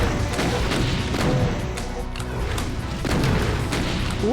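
Rocket explosions in the shooter Doom 2, playing the Alien Vendetta level Seclusion: repeated loud booming blasts and thuds follow one another in a dense, continuous barrage of game combat noise.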